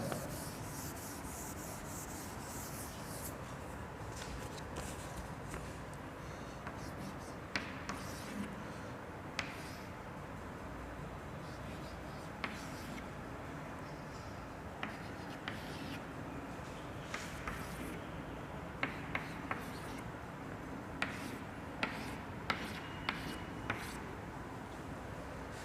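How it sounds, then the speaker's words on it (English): A marker or chalk draws a graph on a board during a lecture, making faint scratchy strokes and occasional light taps spread over a long stretch of quiet room noise. "Here I draw the graph."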